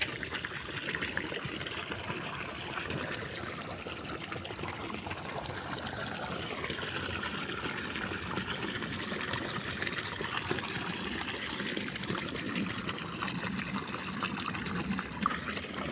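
Filtered water pouring steadily into a row of bottles being filled in the morning, a continuous trickling, gurgling stream at moderate level throughout.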